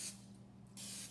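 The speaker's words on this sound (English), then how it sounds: "You need some non-stick cooking spray." Non-stick cooking spray hissed onto a hot skillet for homemade buttermilk pancakes, in two short bursts, one at the start and a second near the end, faint and close with no talk.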